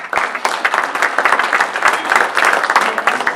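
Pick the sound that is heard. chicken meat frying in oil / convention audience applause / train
convention audience applause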